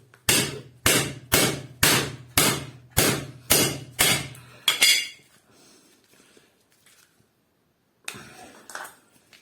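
An improvised tool hammers an electrical contactor in eight sharp, evenly spaced metallic strikes, close and loud, followed by quieter rattling and a couple of faint knocks.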